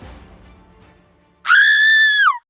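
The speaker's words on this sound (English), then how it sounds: "A scream came from the pedestrian as they fell onto the ground" A woman pedestrian screams as she falls in the street: one loud, sustained, high-pitched shriek lasting about a second that cuts off sharply, following a stretch of quiet rumbling background.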